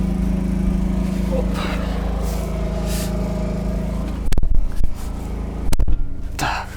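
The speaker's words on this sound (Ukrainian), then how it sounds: "сядемо за кермо трактора, запустимо його і поїдемо" A small YTO 454 tractor engine idles steadily with a low chugging drone, then revs in a couple of short louder bursts near the end.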